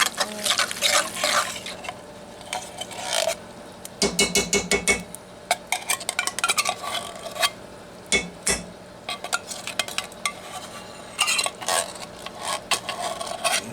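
Tater tot casserole ingredients get stirred in a cast iron skillet inside a cardboard oven setup: a utensil scrapes and clanks steadily against the iron pan with wet mushy sounds, close up and irregular, with no talk over it.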